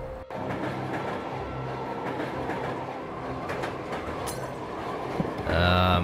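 Train rolling along in the video game Bloody Bomb Dodger, a steady rumbling clatter running throughout, with a brief rising whine and tonal burst near the end.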